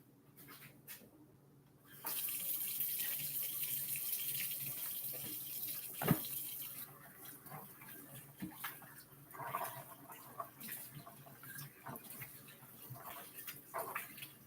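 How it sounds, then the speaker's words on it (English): Water runs from a tap while hands are washed, a steady close hiss that begins abruptly and continues with small splashes and shifting flow. "let me wash my hands"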